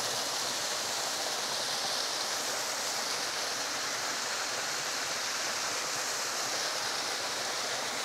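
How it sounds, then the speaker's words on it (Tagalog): Lamesang Bato falls in Ternate, Cavite pours in a constant, close, broadband rush of water that stays loud and even from start to finish, with no voices over it. "Ayan yung falls."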